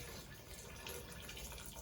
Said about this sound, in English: So I have a kettle of water here just for making tea. Just gonna add this in.